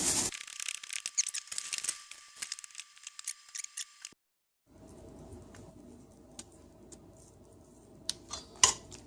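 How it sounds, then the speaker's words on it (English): A knife chops small onions on a cutting board, giving irregular close taps and clicks that pause briefly midway before quieter chopping resumes. "Let's chop up some little onions."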